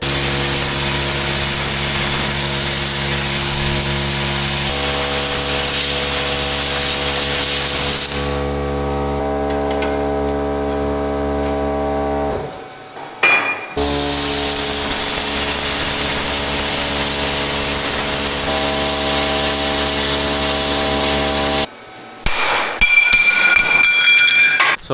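Steel plate being cut into circles in a metal shop, a loud, steady grinding whine that runs continuously, cuts off briefly, then resumes before stopping again with some clinking.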